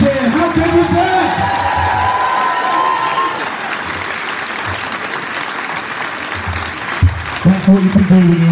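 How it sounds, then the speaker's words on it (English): A school audience of children cheers and applauds loudly, with whoops and shouts over dense clapping that fades into crowd noise before a fresh burst of voices near the end. "give a big cheer"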